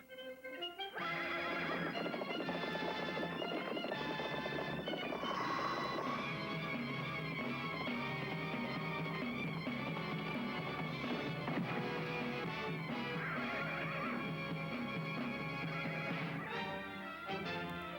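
A horse neighs and whinnies over a dense, steady backdrop of sound that runs throughout.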